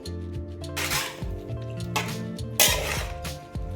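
Fish pieces are mixed with eggs and spices in a bowl, giving wet squishy stirring and clinks of the bowl and utensil, close and fairly loud, in irregular strokes with little talk.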